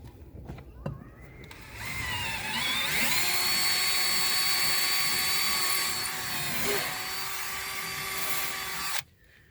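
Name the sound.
power drill with 11/64 bit drilling through aluminum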